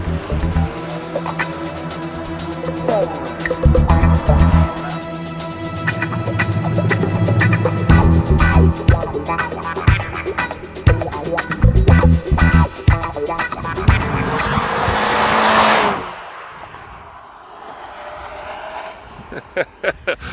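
A 2015 Mazda6 runs a hot lap on a tight race track, its engine revving up and down through corners loudly and continuously before cutting away abruptly near the end.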